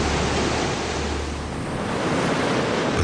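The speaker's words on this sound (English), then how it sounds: "These waves are a restless ally." Ocean waves surge and break in a sea cove, a loud continuous wash of surf with a broad roar that dips briefly then swells again, with wind noise and no voices.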